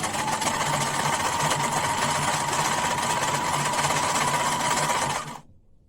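A sewing machine runs steadily and loudly, stitching a microfibre towel scrunchie with a constant rapid mechanical whirr for about five seconds before stopping abruptly.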